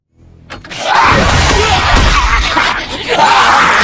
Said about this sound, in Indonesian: Dari luar hanya terdengar suara teriakan